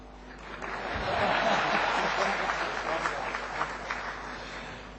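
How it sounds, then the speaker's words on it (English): Audience applause closing a conference panel after lunch, a dense wash of clapping that builds quickly, holds steady for several seconds and tapers slightly, with faint voices underneath. "if you all clap, then we will say the panel is closed"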